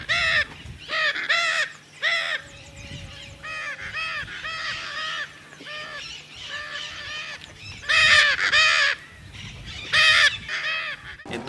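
Lear's macaws, an endangered blue macaw, give a run of harsh, raspy squawks in repeated bursts, several birds calling close by with brief pauses between groups and no talk.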